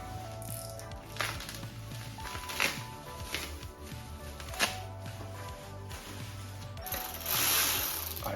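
Bar clamp screws are tightened on an electric pit bike, giving close, rapid ratchet clicks in several bursts with short pauses and small metallic knocks between them, and no talking.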